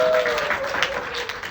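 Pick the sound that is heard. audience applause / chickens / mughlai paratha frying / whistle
audience applause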